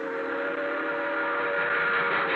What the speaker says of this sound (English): An express train roaring by.